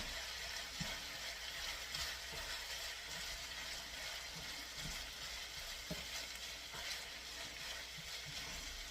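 Noodles sizzle and fry in a hot pan for Asian beef noodles, a steady crackling hiss with scattered pops and occasional stirring scrapes, close and moderately loud, with no talking.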